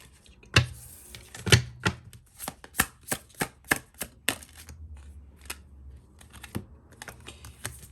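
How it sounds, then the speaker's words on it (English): Playing cards riffle and snap in a quick series of sharp clicks during a shuffle, about a dozen crisp taps close by, with no talking. "Let me shuffle one more time."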